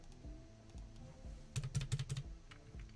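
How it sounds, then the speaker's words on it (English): A computer keyboard is typed on in a quick burst of clustered clicks, close and clear over a steady low background hum, with a few softer taps before and after. "I'm just gonna type that."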